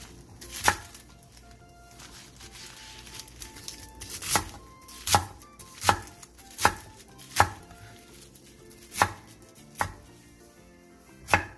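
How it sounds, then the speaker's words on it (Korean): Napa cabbage leaves being chopped into bite-size pieces with a knife on a cutting board, about ten sharp, crisp thuds spaced a second or so apart, close and clear with no talking. "배추 7장을 먹기 좋은 크기로 잘라주세요."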